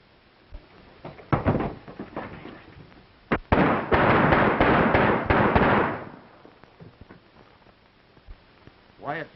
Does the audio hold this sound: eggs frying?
no